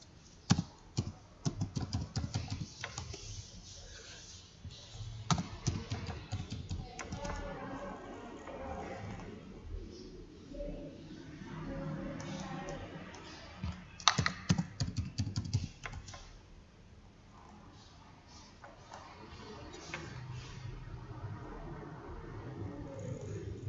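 Data entries typed on a computer keyboard for accounting software, steady close clicking keystrokes in bursts and runs, with quiet talk at times.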